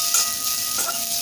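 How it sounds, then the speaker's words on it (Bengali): Bitter gourd frying in a home kitchen pan gives a close, steady sizzle with faint clicks and light stirring, and no voices. "এই যে একটু উচ্ছে একদম ভেজে নিচ্ছি"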